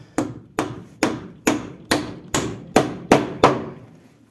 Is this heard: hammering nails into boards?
yes